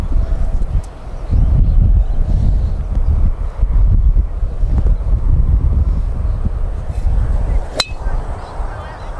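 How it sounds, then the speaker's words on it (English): Wind buffets a microphone outdoors near a golf course fairway, producing a loud, continuous low rumble that surges and eases throughout, with no talking. "Now the wind is just here."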